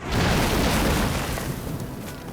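A film explosion sound effect bursts in as a loud, heavy boom, then rolls on as a dense, roaring rumble that slowly thins out.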